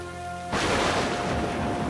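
Steady heavy rain pours down outdoors, starting abruptly as a loud, dense wash of noise that continues evenly to the end, with no voices.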